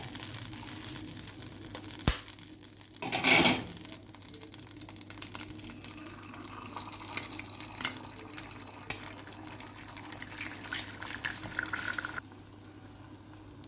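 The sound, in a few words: egg frying half-boiled in butter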